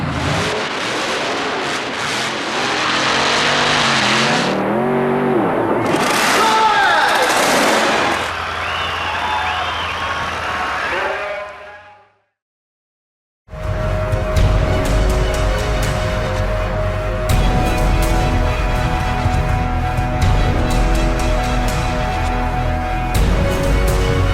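Monster truck engines roar and rev at a Bloomsburg racing event. The loud, sustained engine noise breaks off into a brief silence and then returns as a dense, steady roar.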